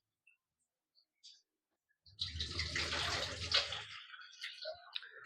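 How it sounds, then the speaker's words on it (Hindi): Urad dal lentils are washed in water, with a splashing, sloshing wash starting about two seconds in and continuing steadily, loud and close, then thinning to a few drips and stirs near the end. "उड़द के दाल के धो रही है अच्छा से साफ करके।"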